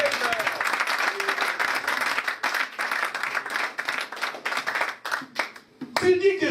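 A church congregation claps together in a dense, continuous burst of applause, loud and close. The clapping briefly thins near the end as a voice comes in.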